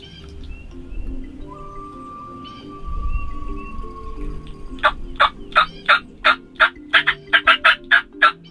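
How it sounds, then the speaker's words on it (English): Wild turkey gobbler during Kentucky spring turkey season gobbling repeatedly up close, a rapid series of loud, sharp rattling bursts following a quieter stretch of ambient woods with a faint high whistle-like tone. "It was exciting to have this encounter with this giant gobbler"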